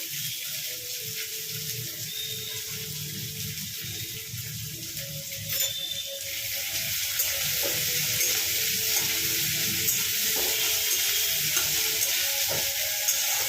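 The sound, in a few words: onion frying and being stirred in a pan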